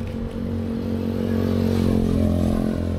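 A motor scooter's engine rumbles low and steady at a refuelling stop in Thailand, close by, with light clatter.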